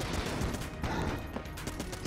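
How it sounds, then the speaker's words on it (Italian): Explosions and bursts of gunfire from the dungeon-crawling shooter video game Enter the Gungeon, a dense, noisy wash of blasts and crackle at moderate level with no voices over it. "Ora fa un'esplosione."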